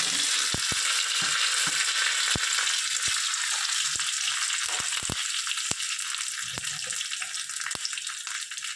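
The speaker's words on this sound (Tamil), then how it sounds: "கடுகு உளுத்தம்பருப்பு போட்டு வரமிளகா 2 போட்டு கருவேப்பிலை அது போட்டு தாளிச்சு" Mustard seeds, urad dal, two dried red chillies and curry leaves tempering in hot oil give a steady loud sizzle broken by sharp irregular crackles and pops.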